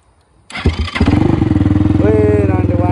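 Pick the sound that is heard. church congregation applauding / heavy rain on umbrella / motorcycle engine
motorcycle engine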